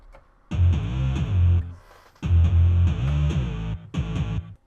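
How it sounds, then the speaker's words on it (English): Distorted synth bass in FL Studio for a Flume-style future bass drop: three loud, gritty sustained phrases with wobbling pitch and a buzzing upper edge, separated by short gaps, with no voices. "Yeah, the distortion just gives it a whole new dimension."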